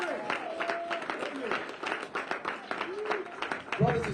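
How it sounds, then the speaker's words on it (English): Audience members clap for themselves at a community gathering, scattered hand claps under ongoing voices and crowd murmur, with people talking throughout. "Clap for yourself for being here today."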